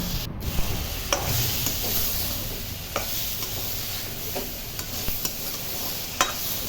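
Spoon stirring poppy seed paste masala in a pan over medium flame with fried drumstick stems, a steady soft sizzle under intermittent scraping strokes, close and alone.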